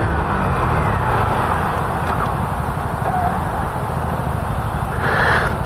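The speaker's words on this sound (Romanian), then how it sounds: "Este un moped cu motor de 50." A 50cc moped engine running steadily while riding on the road, a continuous close drone with wind rush, loud and unbroken throughout.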